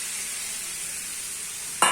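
Soya chunks sizzle loudly in hot oil in a pan, a constant hiss with a sudden sharp burst near the end as onion and tomato gravy goes in.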